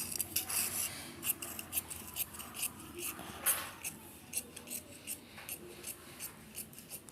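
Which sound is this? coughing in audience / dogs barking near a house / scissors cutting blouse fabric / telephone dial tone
scissors cutting blouse fabric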